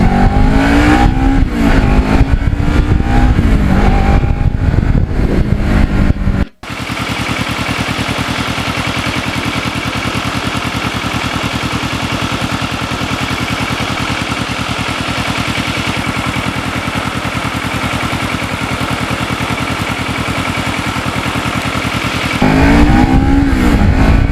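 Kawasaki Ninja motorcycle riding on wet roads, a loud steady engine drone with continuous road and wind roar, the engine pitch climbing near the start and again at the end.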